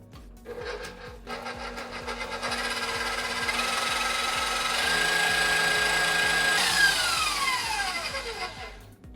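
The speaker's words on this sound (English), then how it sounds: "So I have my whisk attachment on my stand mixer. We're gonna mix this up on high for about 5 minutes." A stand mixer with a whisk attachment runs on high, beating a macaron mixture with a steady loud mechanical whir and rhythmic rattle, its pitch shifting slightly near the end.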